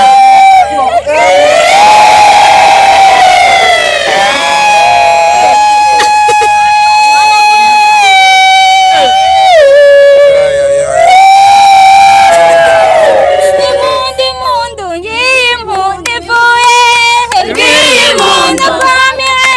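A crowd at a surprise anniversary celebration ululates (impundu) in loud, sustained high trills, rising and wavering, mixed with cheering and voices.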